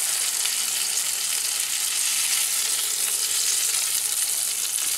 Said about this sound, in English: I'm trying to get this skin a little crispier. I'm gonna bang it on a high heat for a minute.